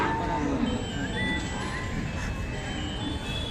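A bull lows at the Chalisgaon bullock market, a deep, drawn-out moo that rises near the start and carries on over the steady murmur of a busy crowd.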